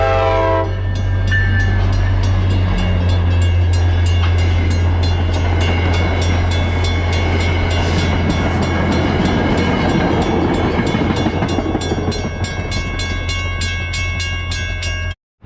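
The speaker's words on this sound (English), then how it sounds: "now that I have firmly got your attention with a train" A train rumbles past loudly and close for a long stretch at Littleton, its horn blaring at the start over steady heavy rolling noise.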